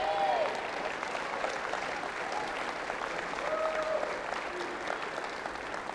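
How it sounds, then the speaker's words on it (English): Steady, sustained audience applause for President Henry at a Faulkner University debate event, a broad wash of many hands clapping with a few faint whistles or whoops rising over it. "Let's give President Henry a round of applause."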